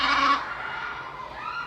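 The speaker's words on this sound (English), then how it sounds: "It's the sheep." A sheep bleats once in a short, loud, wavering cry, used as an animal-sound quiz prompt, with no one speaking over it.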